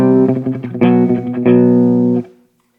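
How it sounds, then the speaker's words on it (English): A Kramer electric guitar played through a Marshall amp on a clean tone rings out with loud, sustained chords and a few strummed accents, then decays into near silence; no one speaks over it. "this is the sound of the amp by itself, which is clean."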